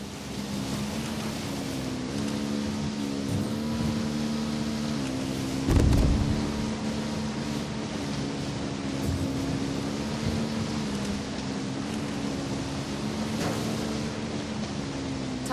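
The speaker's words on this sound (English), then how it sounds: "I'm hearing engine noise." Vehicle engine drones in a Ghost Recon Wildlands video game mission, a steady low hum held at moderate level with a brief louder thump midway, continuing faintly under the game soundscape.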